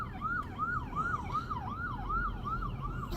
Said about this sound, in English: Look, ambulance is stuck in traffic and people are not moving.